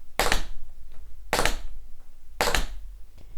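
Three quick bursts of rapid percussive tap-dance taps, each a tight flurry of clicks from tap shoes on a hard floor, separated by short pauses.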